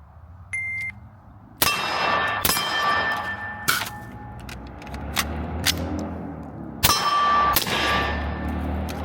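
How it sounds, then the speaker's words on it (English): Sharp, ringing clangs of rifle shots striking a steel gong target, about half a dozen impacts spaced irregularly, each with a metallic ring that decays under the shot's crack. A short electronic beep comes first, and no one talks. "Plus we knocked the gong."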